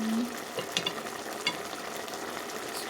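Beef adobo frying in a pan after a splash of vinegar, a quiet, steady sizzle with a few light spoon scrapes and clinks, close but fairly soft and with no talking.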